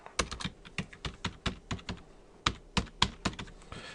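Fingers tapping an iPhone touchscreen keyboard in quick, irregular bursts, each tap a crisp click, close and clear with no voices.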